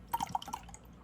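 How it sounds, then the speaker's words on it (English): Liquid poured out of a Mr Beast Lab capsule drips and splashes in a few quick, faint plops close by. "Pour out the liquid."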